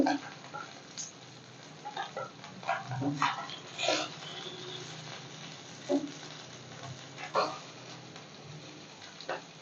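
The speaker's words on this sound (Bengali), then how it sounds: "এই মাছটা আমি ভাজা খাবো, তার জন্য আমি ভেজে নিচ্ছি, আর একটু বেশি করে ভেজে নিচ্ছি কড়কড়া করে" Bata fish frying in hot oil until crisp, a steady close sizzle with occasional sharper pops and spatters over about ten seconds.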